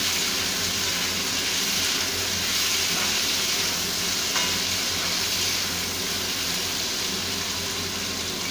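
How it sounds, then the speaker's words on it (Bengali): Pumpkin pieces frying with already-fried potatoes: a loud, steady, broadband sizzle and hiss of hot oil, continuous and close, without speech. "আলুগুলো একটু ভেজে নিয়েছি, এবার এর মধ্যে দিয়ে দেব কুমড়োগুলো"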